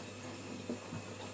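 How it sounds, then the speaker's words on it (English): Hot tap water runs over a lomo developing tank holding 16mm film, making a faint, steady hiss of flowing water with no voices. "just have hot water running over it"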